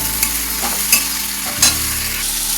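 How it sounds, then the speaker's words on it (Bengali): Tomato paste stir-fried in a pan, sizzling loudly and close, with spatula scrapes and stirring clatters at irregular moments, no speech. "টমেটোর পেস্টটা দিয়ে দেবো। এটাকে এখন একটুখানি হালকা সময় একটুখানি কষিয়ে নেবো"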